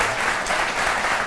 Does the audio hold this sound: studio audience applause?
yes